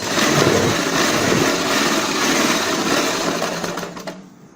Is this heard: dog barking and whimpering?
no